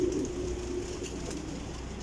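Pigeons cooing nearby, a soft low throaty coo rising briefly over a constant background hum, with no talking.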